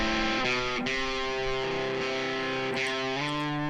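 Electric guitar notes ring out with a wash of reverb trailing behind each one, a slow melodic line played alone at moderate volume.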